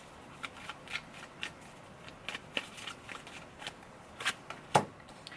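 Tarot cards being shuffled and drawn during a reading, giving soft scattered riffles and flicks over a faint background, with one sharper snap near the end.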